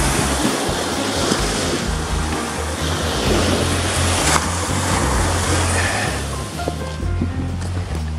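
Sea of Japan swell and surf in early summer under a fairly strong onshore wind, a dense continuous wash of breaking waves with wind rumble, steady and loud without clear separate breakers.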